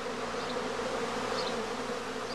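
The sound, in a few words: humming of emerging honeybees in a swarm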